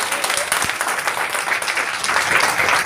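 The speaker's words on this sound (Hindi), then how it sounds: "पर ताली तो बजा रही है।" Dense, steady clapping from an audience at a motivational speaking event in India, a continuous wash of many hands at even loudness for the whole stretch, with faint voices murmuring beneath it.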